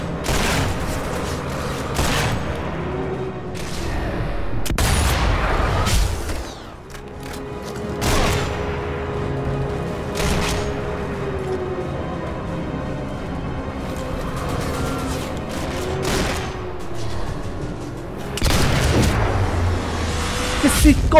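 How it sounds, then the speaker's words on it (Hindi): An enemy guard's gunfire in Sniper Elite V2 Remastered: several sharp, loud shots go off at irregular intervals, some clustered, over a steady droning background. "यहाँ से फायरिंग हुई है"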